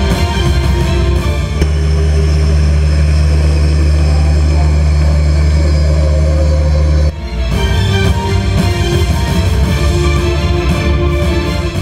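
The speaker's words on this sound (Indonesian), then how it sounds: "Berjenis pesawat angkut udara Airbus A400M memiliki kemampuan unik dengan kemampuan strategis" Airbus A400M transport aircraft propellers and turboprop engines giving a loud, steady low drone with a brief dip partway through before resuming, while a voice narrates over it.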